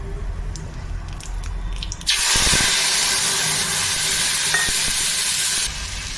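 Spice paste hits hot oil in a pan while radish is cooked, bursting into a sudden loud sizzle after a quieter stretch of light frying and scraping, then hissing steadily before easing slightly near the end.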